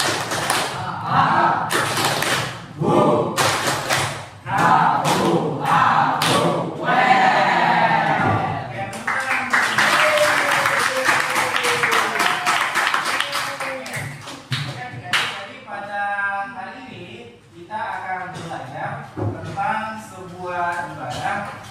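A classroom group performs the rhythmic 'tepuk semangat' clapping chant, sharp claps in repeated patterns mixed with chanting voices, loud and close, with talking in between.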